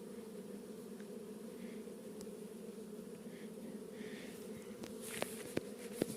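A sizeable honeybee swarm, around 4 kg, at an apiary in July, giving a steady, dense, low buzzing drone throughout, with a few faint taps and rustles near the end.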